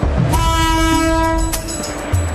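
A local train in India sounds a long, loud horn blast with steady harmonic tones over continuous rumbling rail noise and clatter, all close by.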